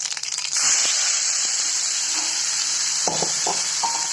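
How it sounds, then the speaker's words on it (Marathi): Mustard seeds, cumin and onions sizzle and crackle steadily in hot oil, a dense continuous frying hiss with a few sharp stirring knocks near the end. "आता हे बघा तेल गरम झाले ह्याच्यामध्ये ना मी मोहरी जिरे टाकणार आहे अगोदर मोहरी टाकते नंतर जिरे टाकते आणि नंतर कांदे टाकते"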